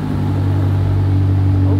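A BMW M5 fitted with a Super Sprint exhaust idles right after starting, giving a steady, loud, low droning rumble with a constant hum and no revving or speech.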